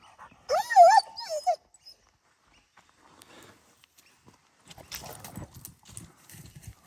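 A wild dog roaming near a creek on rural bushland property gives a short, high-pitched whining call at close range. Quiet follows, then faint rustling and footsteps through the undergrowth.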